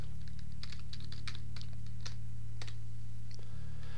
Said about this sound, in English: I'm going to type photography.